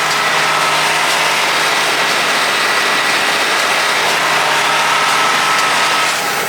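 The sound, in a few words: large square baler running, plunger shaking the tractor seat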